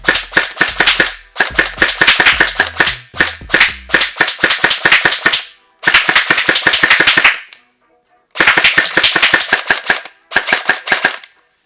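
An Emerbu PDX gel blaster fires in loud close bursts of rapid snapping shots, several long full-auto strings separated by short pauses, with no talking.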